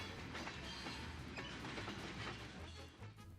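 A freight train rolls past in a continuous rumble with rhythmic clickety-clack from the wheels, heard fairly close and faint in level, with no talk.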